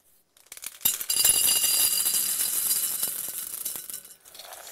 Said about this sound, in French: Et on va y ajouter des billes d'argile.